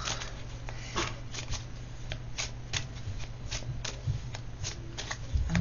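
Tarot cards are shuffled by hand close to the listener in a run of quick, crisp riffling flicks and slaps that repeats through the whole stretch. There is no speech.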